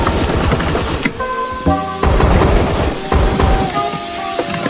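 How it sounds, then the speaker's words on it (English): Rapid gunfire from the AMT Terminator in the video game Phantom Forces rattles in loud, close bursts of rapid-fire shots, broken by brief pauses and metallic reload clicks. "Yeah, I'm shooting at nothing right now."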